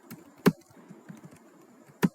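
Keystrokes on a computer keyboard while editing a file in a terminal text editor: two sharp, fairly loud clicks about a second and a half apart, with softer faint taps between them, and no talking.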